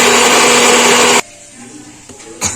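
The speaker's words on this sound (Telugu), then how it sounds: "అలాగే ఒకసారి ఉల్లిపాయ పేస్ట్ ఒకసారి ఆడేస్తానండి." A mixer grinder grinds onion paste for egg and chicken biryani: a loud, close, steady whirring motor runs for just over a second, then cuts off, leaving a quiet room and a brief clatter at the end.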